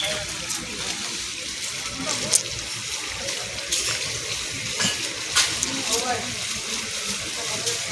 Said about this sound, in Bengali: এই ঝর্ণা, বল ঝর্ণা।